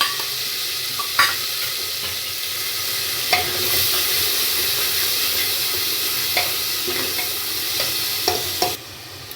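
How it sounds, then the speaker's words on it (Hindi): Spice masala roasts with browned onions in a pan, a steady close sizzle broken by repeated scraping strokes of a spoon stirring the mix, with no talking. "मैं इसमें मसाला मिक्स कर रही हूँ। अब मसाले को भूनेंगे।"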